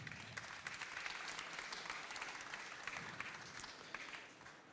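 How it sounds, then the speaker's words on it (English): An audience claps at an artist talk at Paris Photo 2019, a dense, even patter of many hands that continues steadily at moderate distance before tapering slightly at the end, with no voices. "Please give her a round of applause."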